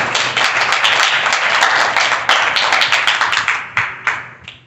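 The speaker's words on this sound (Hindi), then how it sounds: "नित्य की भांति गणितीय सदन की शुरुआत जोरदार तालियों के साथ करें।" Schoolchildren in a classroom clap loudly at the start of a maths lesson, close and energetic, with a rhythmic edge to the claps before the applause thins out and trails off near the end.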